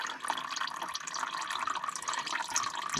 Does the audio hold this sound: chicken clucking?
no